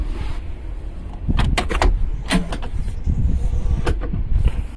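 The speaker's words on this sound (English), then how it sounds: "Let's open our door up." A door on the console of a Pursuit S288 center-console boat is handled and pulled open, with clicks, a latch and a few sharp knocks over a steady outdoor rumble.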